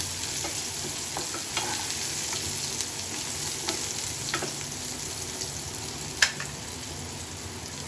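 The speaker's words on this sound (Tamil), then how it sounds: "சின்ன வெங்காயமும் பூண்டும் நல்லா கோல்டன் ப்ரௌன் கலரில் வர வரைக்கும் நல்லா வறுத்துட்டு" Small shallots and garlic fry in oil for a dal curry, a steady sizzle running throughout with scattered stirring clinks and one sharp utensil tap near the end.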